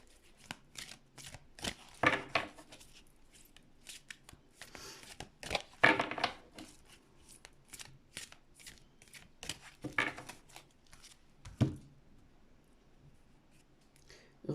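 Large, very thick oracle cards are shuffled by hand in a series of close, soft riffling and flapping bursts separated by short pauses.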